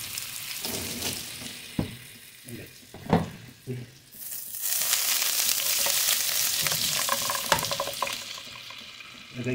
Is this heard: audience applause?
no